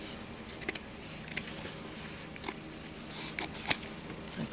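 Scissors rough-cut a gingerbread ornament pattern, making faint, intermittent snips and crinkling paper sounds up close, irregular and quiet.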